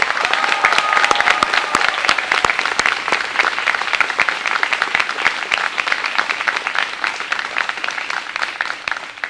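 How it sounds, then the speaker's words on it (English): Sustained applause from an audience at a school orchard ceremony, dense steady clapping from many hands filling the room, with a few voices faintly mixed in. "Please give these students a big round of applause."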